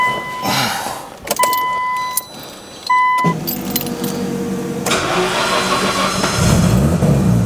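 A Nissan Skyline R34 GT-R straight-six with upgraded coil packs and a Haltech ECU is heard: keys jangle and chimes sound, the starter cranks briefly, then the engine catches at about three seconds and settles into a loud, rough idle close by.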